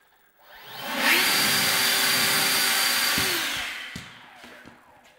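An EGO 530 56V cordless leaf blower on its turbo setting spins up to a loud, steady rushing roar with a high whine, holds for about two seconds, then winds down, with a sharp click and some light clatter afterward.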